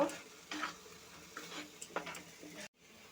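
A ground spice paste for egg korma is sautéed in a pan with a soft, low sizzle. Several scraping stirs and light utensil taps come through before the sound cuts to near silence at the end.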